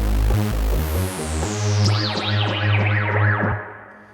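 A Dave Smith Instruments Prophet-6 synthesizer note with a slow resonant filter sweep falling downward, a bouncing rhythmic pulse underneath, loud and alone.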